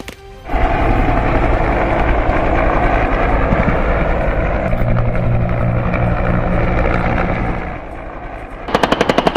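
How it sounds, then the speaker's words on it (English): Cobra attack helicopters fire cannon, rockets and missiles in a combat strike on a ridgetop: continuous loud rotor thrum with rapid rattling cannon bursts, ending in a sharp burst of fire. "Cobra attack helicopters engage the targets with a high degree of accuracy, employing cannon, rockets, and missiles"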